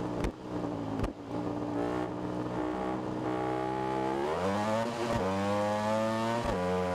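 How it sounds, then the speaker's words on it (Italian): Motorcycle engine in the RiMS Racing game revving hard, pitch climbing steeply as it builds revs, with brief dips at gear shifts; loud and continuous, no talking. "Sale un casino subito di giri sta moto in maniera impressionante."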